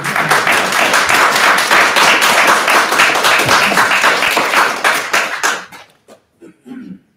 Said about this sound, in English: I respectfully ask the audience to refrain from clapping